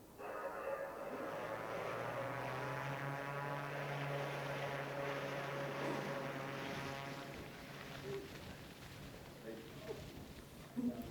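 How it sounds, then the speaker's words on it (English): A World War II propeller aircraft modified for polar regions drones steadily with a low engine hum and layered harmonics, fairly loud and continuous before easing slightly near the end, at an emperor penguin colony on the Antarctic coast. "So that's a World War II battler aircraft that's specially modified for the polar regions."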